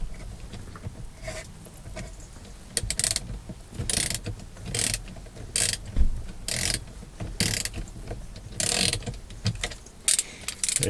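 A ratchet tool with a T50 bit loosens the steering wheel bolt on a 2001 Lincoln LS, giving close, repeated pawl clicks in uneven bursts between short handling noises, with no voices.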